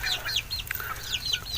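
A hardworking hen clucks close by in a quick series of soft, chattering calls, with other chicken murmurs in the background and no human voices.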